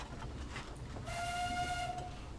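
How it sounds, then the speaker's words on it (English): Corris No.7, a narrow gauge steam locomotive, sounds a single long, clear whistle lasting about a second, loud and near over the steady chuff and rumble of the engine running. "Whistle for the crossing."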